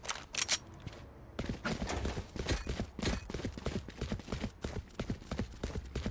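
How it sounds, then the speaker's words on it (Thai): Footsteps patter in the video game Valorant, a fast, irregular run of close, sharp steps that carries on without a break, with a few louder clicks at the start. "คนนี้ก็ฟังเสียงเท้าเป็นครับ"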